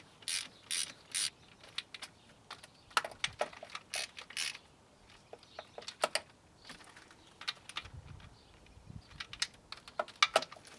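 A ratchet clicks in quick bursts as two small thermostat housing bolts are run down into aluminum on a GM 3800 engine, crisp close ratcheting separated by short pauses and softer metallic handling.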